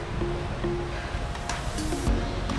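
A steep, unnamed waterfall just past Annandale Waterfall in St. George, Grenada, gives a steady, dense rush of falling water that stays constant throughout, with a few faint tonal sounds over it.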